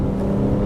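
Petrol engine of an Infiniti Q50 Hybrid kicking in from electric mode, a loud, steady low engine drone with rumbling that holds through the short moment.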